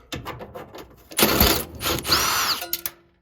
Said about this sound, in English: I'll just use the drill with the 1/4-inch on there